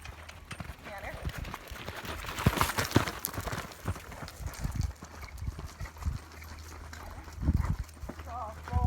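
A gaited horse's hooves thud and clop on the soft ground of a round pen during training over poles, an uneven rhythmic series of footfalls up close, with a rider talking over them.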